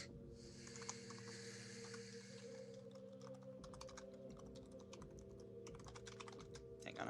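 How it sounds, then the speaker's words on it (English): Computer keyboard typing, a steady run of quick clicks and key taps, close and fairly quiet against a low electrical hum, with no voices. "Hang on, I'm typing."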